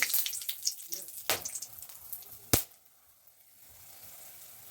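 Whole spices, a dried red chilli and three cardamom pods crackle and sizzle in hot mustard oil, with sharp pops and spits up front that fade into a softer, steady frying hiss.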